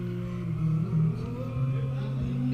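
A nearby engine idles and revs in a sustained low drone with rising and falling swells, steady and loud throughout, at a workshop where a transmission and clutch are being removed from a track-prep car.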